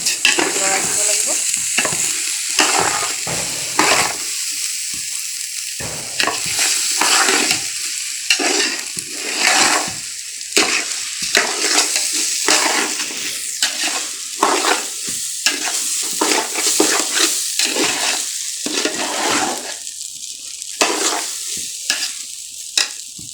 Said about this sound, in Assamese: লৰাই দিব লাগিব